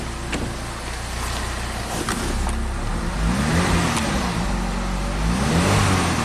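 Chevrolet HHR SS Turbo engine, suspected of a failing fuel pump solenoid, revving up: a steady mid-level engine drone rises in pitch over several seconds as the revs climb, with no talk.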